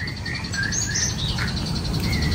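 An orange-headed thrush kept outside a house calls with repeated bright chirps and short whistled phrases over a steady loud background hiss, as if from water spray.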